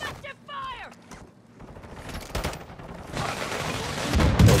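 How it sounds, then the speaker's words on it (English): Gunfire in the video game Warzone 2.0 during the endgame, a clatter of shots and bursts building over the clip against an electronic sweep and rising noisy battle ambience, moderately loud. "Taking effective fire!"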